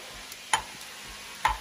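Onions sizzle in hot oil outdoors under a soft steady hiss, punctuated by two distinct sharp scrape-clicks of a utensil stirring the pan.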